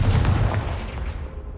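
The Confringo spell blasts in Hogwarts Legacy with a close, heavy thump that rolls into a fading rumble and decays over a second and a half.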